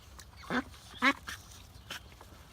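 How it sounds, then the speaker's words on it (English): A few loud duck quacks ring out close by, spaced unevenly over a soft background of outdoor noise. "They're just hungry ducks."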